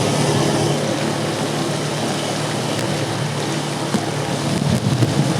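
Heavy wind and rain roar during a wet motorcycle race, with dense, steady broadband noise and wind buffeting the microphone throughout. No voices are heard.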